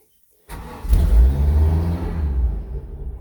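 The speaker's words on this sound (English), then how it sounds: "That was a cold start." Boat engine cold start: after a moment of silence the engine cranks and catches, then settles into a loud, steady low rumble close by.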